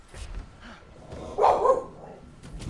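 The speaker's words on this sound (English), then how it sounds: "I don't think anybody will ever be sorry to hear dogs in the background" Dogs bark somewhat faintly in the background, with a short, muffled burst of barking in the middle over a quiet, noisy room.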